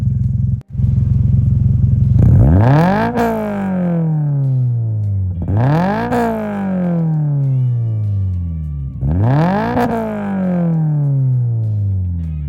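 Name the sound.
Subaru BRZ / Toyota GR86 revving with titanium exhaust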